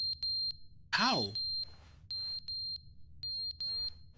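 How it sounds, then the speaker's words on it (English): Smoke alarm in The Stanley Parable Ultra Deluxe video game, sounding in evenly spaced, loud, high-pitched electronic beeps in pairs and short bursts, with a brief voice cutting in between the beeps. "Oh, a smoke alarm."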